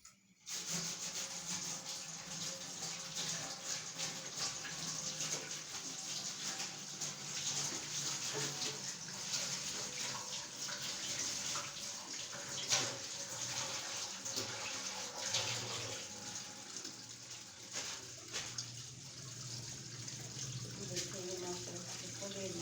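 A plastic sheet from a home kitchen is washed under a running tap, giving a steady wash of water with intermittent rubbing and splashing, close and continuous throughout.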